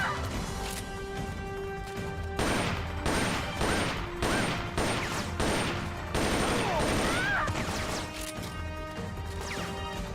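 Heavy gunfire in the game Metal Gear Solid: Portable Ops, loud overlapping bursts and crashing shots in rapid volleys over a continuous roar, with a few sharp impacts and no talking.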